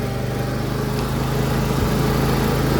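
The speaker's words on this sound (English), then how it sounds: "You can hear a little whine coming out of that." John Deere L118 lawn tractor runs close by with a steady engine drone and a faint thin transmission whine held throughout.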